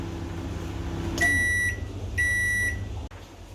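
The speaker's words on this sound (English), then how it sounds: "then you stick that in the microwave and you heat it until the butter is melted" A microwave oven heating milk and butter finishes with two bright electronic beeps, then the door clicks open; a low hum runs beforehand.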